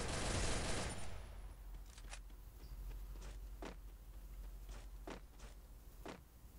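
Scattered gunshots in the mobile battle royale Free Fire, a loud burst at first, then several sharp separate cracks spaced about a second apart at moderate distance, with no talking.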